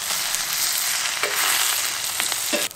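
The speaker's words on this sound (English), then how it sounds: "And we just fry it with a last few minutes of the potatoes." Cubed canned corned beef and potatoes fry together in a skillet, a constant bright sizzle punctuated by occasional scrapes and stirs, close and fairly loud with no voices.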